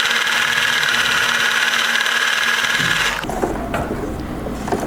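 A sewing machine stitches darts in thin dress fabric with a steady, loud mechanical whir that runs unbroken, then cuts off abruptly near the end, leaving a few light clicks and handling sounds.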